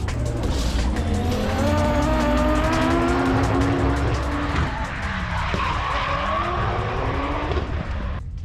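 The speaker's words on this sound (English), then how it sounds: "So that's the Drift Pro Championship final that's going on there." Drift cars skid through a Drift Pro Championship final at Cadwell Park, with loud, sustained tyre squeal and engines revving in rising and falling sweeps, heard from trackside at moderate distance.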